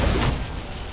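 Mortar fire in a video game unleashes a loud, booming blast at the start that rumbles and slowly decays across the second, heavy and close with no talk over it.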